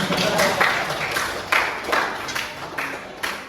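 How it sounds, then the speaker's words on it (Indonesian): Students in a classroom applauding a group that earned a top mark, a burst of many hands clapping close and steady for a few seconds, with no talk. "Tepuk tangan dong."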